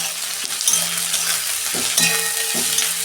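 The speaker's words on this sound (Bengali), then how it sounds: "পেঁয়াজটা আমি অল্প নুন দেবো, 2 মিনিট নুন দিয়ে ভেজে নেবো" Chopped onions with a little salt frying in oil for a mutton curry: a steady, bright sizzle fills the clip, with a few soft clinks of a spatula stirring the pan.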